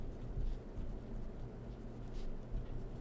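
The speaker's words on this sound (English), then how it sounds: "Let me write this down." A pen scratches across paper in short, close strokes, a soft rough scribbling texture over faint background hum, with no voices.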